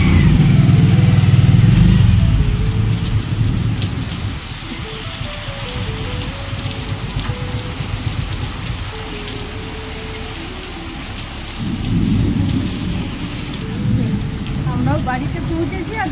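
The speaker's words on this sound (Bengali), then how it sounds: "আমরাও বাড়িতে পৌঁছেছি আর বৃষ্টিটা জোর শুরু হয়েছে, এমন দুটো চমকাচ্ছে।" Heavy rain pours steadily with loud low rumbles of thunder, the strongest near the start and again toward the end, as a storm breaks over a town in the evening.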